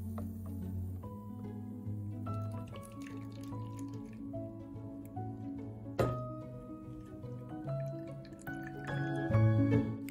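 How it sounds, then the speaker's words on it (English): Tiger nut milk blended with ginger and water is poured through a sieve, a steady trickle and drip of liquid running continuously over low music, with a brief knock near the middle. "Then I sieve it."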